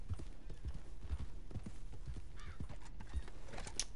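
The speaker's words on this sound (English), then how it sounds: "He's fast, he's pretty, he's the perfect horse." Horse hooves clip-clopping at a steady trot in the Red Dead Online video game, a regular series of sharp hoofbeats heard alone with a faint whinny near the end.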